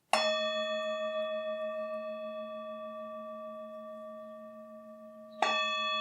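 A singing bowl is struck and rings with a long, slowly fading shimmer, then is struck again near the end; close, alone, no talking.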